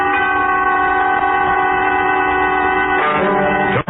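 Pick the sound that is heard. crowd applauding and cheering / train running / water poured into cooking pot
train running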